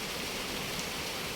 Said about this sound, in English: It's been like this every night. Rains, cats and dogs.